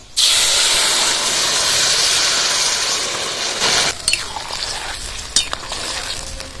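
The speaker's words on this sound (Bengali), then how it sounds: "ফোড়নটা হয়ে গেছে এবার তরকিটা ঢেলে দেবো" Chopped vegetables for a Bengali drumstick chorchori are poured into hot oil tempered with spices and chilli, setting off a loud, close, steady sizzle that settles into a quieter crackle with a few light utensil clinks.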